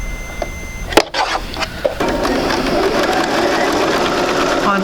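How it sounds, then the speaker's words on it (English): A sewing machine stitches down the right-hand side of a quilt block, its steady rapid whir running close and continuous after a sharp knock near the start. "Okay, so I'm going to sew down the right hand side."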